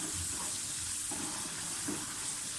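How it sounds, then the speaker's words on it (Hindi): Masala french fries sizzle steadily in hot oil as they turn golden brown, a continuous close frying crackle with no talking. "थोड़े से और गोल्डन ब्राउन से करूँगी मैं।"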